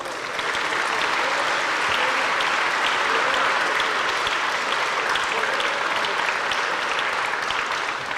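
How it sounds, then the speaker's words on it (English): A crowd at a military welcome home ceremony for the 1st Battalion, 188th Air Defense Artillery applauds loudly and continuously, a dense, unbroken wash of clapping. "Round of applause."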